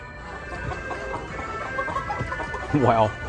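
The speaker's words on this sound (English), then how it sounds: "a lot of chickens here" Chickens cluck in the background amid crowd chatter at a large flea market, with one louder, closer cluck near the end.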